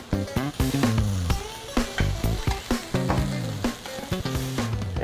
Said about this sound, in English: let's add our greens. Once again, just a quick little saute.